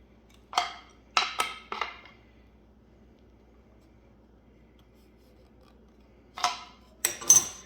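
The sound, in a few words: wood cracking under tightening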